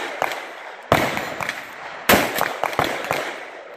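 A Daniel Defense M4 V11 AR-15 with a third-generation Franklin Armory binary trigger fires several sharp, loud shots outdoors. The cracks come in quick, uneven succession, some close together in pairs, each with a short echoing tail.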